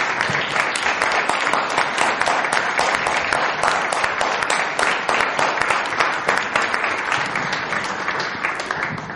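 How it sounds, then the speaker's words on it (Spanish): An audience gives enthusiastic applause at a Colombian-Arab cultural gathering, loud, dense clapping sustained close by for the whole stretch with little letup. "un efusivo aplauso como reconocimiento"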